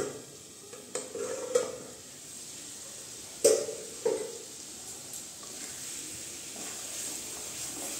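Egg do pyaza in progress: spice paste and eggs stirred and fried in a pan, with a steady sizzling hiss throughout and a few sharp spoon clacks against the pan near the start and middle.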